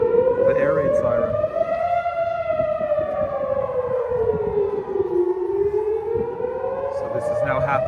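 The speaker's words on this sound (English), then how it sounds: "the air raid siren" Air raid siren wailing over Jerusalem in Israel, a loud rising and falling tone sweeping slowly up and down for the whole stretch, with faint voices beneath it.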